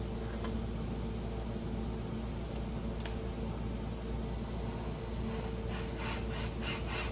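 A drill runs steadily at low speed, spinning an engine valve to lap it against its seat, with a constant whirring drone and a gritty grinding rub, plus a few light clicks.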